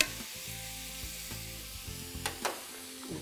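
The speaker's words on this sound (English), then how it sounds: "So we're just gonna saute these down to soften them" Mushrooms sautéing down in a pan, a soft, fairly quiet sizzle with a steady hiss and a couple of brief scraping stirs near the end.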